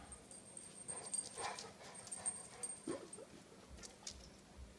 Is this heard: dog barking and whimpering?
yes